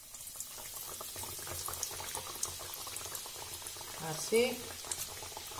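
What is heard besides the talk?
chicken fillets frying in hot oil in a pan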